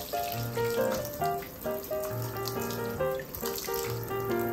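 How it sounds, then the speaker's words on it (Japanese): Tap water pours continuously and fairly loudly while a freshwater fish is rinsed under it, with a steady splashing stream and no talk. "もうガンガン水当てていこう。"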